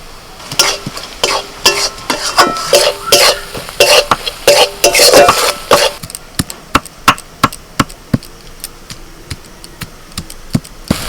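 Spice masala stir-fried in a pan with salt, cumin and coriander powder for a banana flower and prawn chop, with repeated scraping strokes of a spatula over a soft sizzle, busy and dense at first, then sparser distinct clacks.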